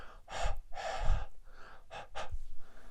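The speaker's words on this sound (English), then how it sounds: "You like to use some hot breath" Close, soft bursts of hot breath are blown onto a trading card, four or five breathy exhalations with short gaps between them and no talk.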